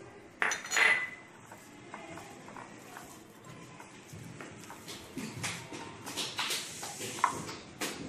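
Mutton kofta mixture is stirred and mixed by hand with coriander in a metal bowl, with soft irregular scrapes and occasional clinks close by.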